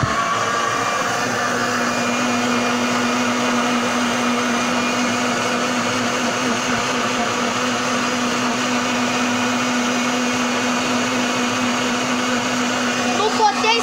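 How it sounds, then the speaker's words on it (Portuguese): A blender makes a banana smoothie, running steadily and loudly throughout, a continuous motor whine with a churning hum and no pauses. "Após encaixar o liquidificador em sua base, o copo do liquidificador em sua base, bata tudo."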